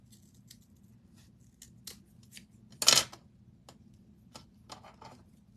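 Scissors snip ribbon scraps for a handmade tassel in several quiet, close cuts, with one louder, fuller snip in the middle over a low background hum.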